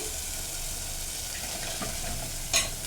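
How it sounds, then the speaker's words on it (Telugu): Chili powder fries in oil for a taro root tamarind stew, giving a steady close sizzle with light stirring scrapes and a brief sharper clatter near the end. "పచ్చివాసన పోయే వరకు వేగుతుంది అనమాట ఆయిల్లో"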